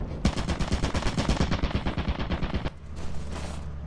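A turret fires a machine gun in Lethal Company as a long, fast, loud burst of rapid shots close by, stopping abruptly and leaving a low hum behind.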